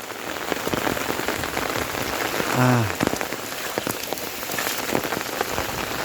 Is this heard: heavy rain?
yes